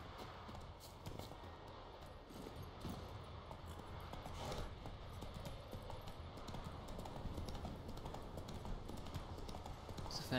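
A horse trots along in The Witcher 3, soft rhythmic hoof clops fairly quiet under a wash of ambient game noise.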